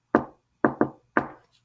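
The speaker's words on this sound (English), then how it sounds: "knocking on the door." Knuckles knocking on a door: four crisp, close knocks, a single one, then a quick pair, then one more, each with a short ringing decay in otherwise quiet surroundings.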